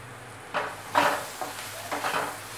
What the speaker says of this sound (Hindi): अब इस मसाले को थोड़ा चलाएंगे और इसको थोड़ा ढककर रख देंगे